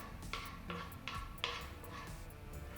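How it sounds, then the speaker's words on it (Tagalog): Chili and onion being stirred together in a cooking pan for Bicol Express, with a few faint, separate clinks and scrapes of a utensil against the pan, quiet and unhurried, no heat yet. "Ihalo din natin yung mga sangkap na kakahanda lang natin dito sa ating lutuan."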